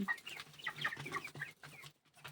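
Several broiler chicks cluck and chirp softly at close range, with overlapping little calls and rustling in a coop.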